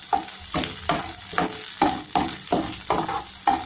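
Onion frying and stirred in a hot pan for Filipino poqui poqui, a steady sizzle broken by regular scraping strokes of the utensil about every half second, close and clear with no talk.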